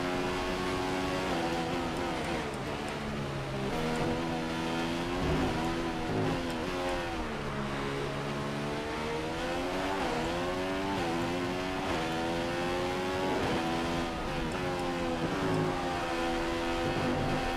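Formula One race cars in the F1 2015 video game at the Singapore night race, with a continuous high-pitched engine whine that rises and falls through gear changes and holds steady at a loud level throughout.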